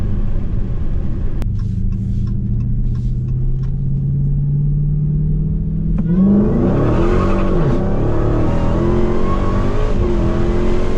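A Dodge Challenger Hellcat Redeye Super Stock sits loudly rumbling at idle, then launches with a sharp surge into a roaring, climbing engine note that runs on at full throttle, very close and loud.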